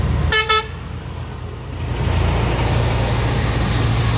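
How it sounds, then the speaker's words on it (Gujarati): Bus horn in city traffic, two short loud honks in quick succession near the start over the steady rumble of engines and road noise that keeps building afterward. "બસવાળા ભાઈ હોરન મારે છે"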